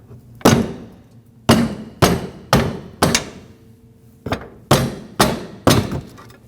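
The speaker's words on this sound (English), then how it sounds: "tap the upper with a hammer" Eight sharp metallic hammer taps on the upper control arm shaft of a 2WD Nissan Frontier pickup, evenly spaced roughly a second apart with a short pause midway, each ringing briefly.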